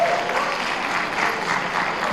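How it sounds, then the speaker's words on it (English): Dense, steady applause from a crowd at a high school town hall, continuous and close for the whole stretch. "Let's give that a round of applause."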